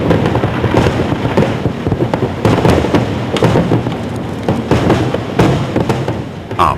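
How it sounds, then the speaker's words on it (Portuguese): Explosive detonation blasting during highway tunnel excavation: a loud, dense barrage of rapid rumbling blasts and cracks that carries on for several seconds, booming and reverberant, with no talking. "Concluídas as etapas de perfuração e carregamento de explosivos, o pessoal é retirado e é iniciada a detonação."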